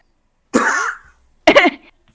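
Two separate coughs, the first longer and rougher, the second short and sharp, each followed by silence.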